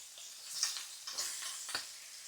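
Beef pieces, cut about three by three, sear in a pan with a quiet, hissing sizzle broken by a few small crackles and pops, close and steady.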